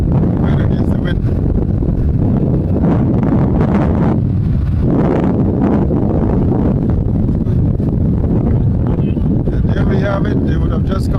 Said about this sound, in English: But the wind, as I said, is still very strong